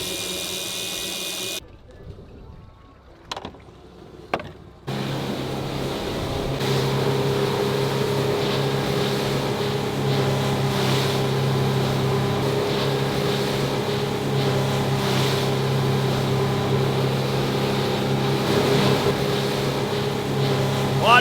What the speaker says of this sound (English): we've come back into the boat ramp